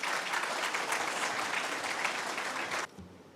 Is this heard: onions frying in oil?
no